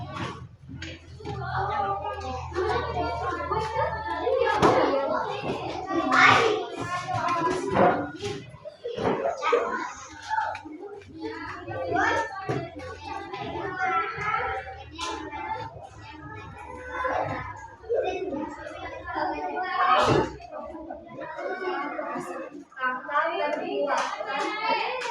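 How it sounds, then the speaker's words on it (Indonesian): Children clap in scattered, uneven bursts for group 2 in a classroom activity, with lots of children's chatter and an adult voice talking throughout. "Tepuk tangan ke kelompok 2 ya"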